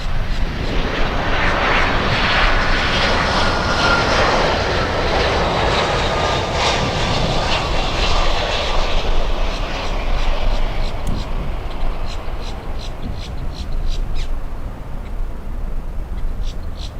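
An Airbus A350-1000 jet passes at Miami International Airport with a broad, loud engine roar that holds for several seconds and then slowly fades into distant rumble. Faint bird calls sound near the end.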